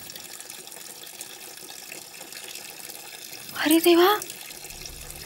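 Water runs steadily from a household tap, a low continuous hiss in the background, briefly covered by a startled voice exclaiming near the end.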